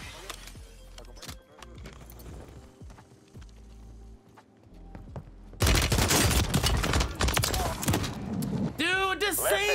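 Rapid-fire DG 56 rifle bursts crack in Warzone 3 on the Vondel map, starting as scattered distant shots and swelling into loud, dense close gunfire, with a voice talking over it.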